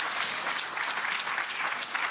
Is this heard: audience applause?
yes